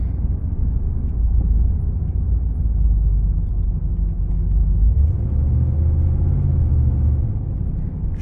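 A 1985 Chevrolet Camaro IROC-Z with a 700R4 automatic transmission drives steadily, its engine a continuous low rumble from inside the cabin with subtle firm shift changes and no talking.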